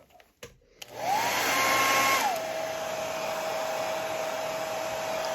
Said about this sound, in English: Hit it with the hair dryer again